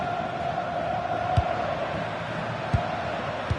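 Stadium crowd in an FC 26 football match, Portugal vs DR Congo at the 2026 World Cup, gives off a steady, dense roar that runs throughout, with a few low thuds breaking through.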